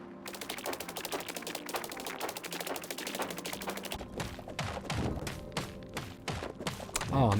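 Rapid, dense run of sharp clicking impacts from a pickaxe breaking blocks in Hytale, near and steady throughout, with a brief rising tonal flourish near the end.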